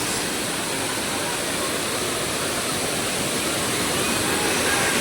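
Steady, loud roar of the Savdav waterfall in Konkan, a dense unbroken rush of falling water filling the whole clip at close range, with no voices over it.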